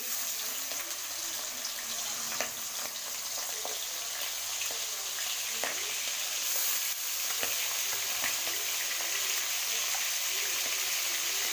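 Prawns fry in hot oil in a home kitchen pan, a steady bright sizzle running throughout with faint scattered clicks and pops and no talking.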